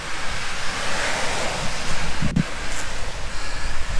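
Ocean waves wash onto the sand at Haleiwa Alii Beach Park on Oahu, Hawaii, a steady broadband surf roar with wind buffeting the microphone and a brief thump partway through, no voices.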